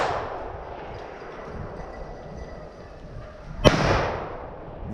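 A single sharp hunting rifle shot rings out during a driven hunt, a loud crack followed by a rolling echo across the woodland, set against quiet outdoor background noise.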